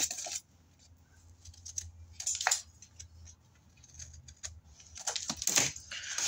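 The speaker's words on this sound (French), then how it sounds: "Et pareil, on vient couper en biais." Scissors snip diagonally through paper for a scrapbooking album in short, crisp, close cuts, with a few quiet pauses between bursts.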